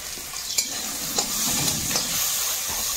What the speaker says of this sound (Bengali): কাঁকড়াটা ভাজার মতো হলুদ হয়েছে